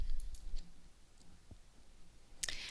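Computer mouse clicks on a software menu: a few faint, close clicks spaced across a quiet room background, with a sharper click near the end.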